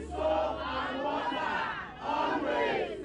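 Large crowd of Nigerians gathered at Allen Roundabout in Ikeja, Lagos, for an Ebola awareness campaign, chanting and shouting together loudly in sustained surging waves with a brief dip before swelling again.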